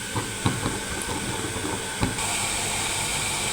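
Washed rice roasts in a pan, giving a steady, close hiss with a few soft taps and clicks. The hiss grows slightly brighter and fuller partway through.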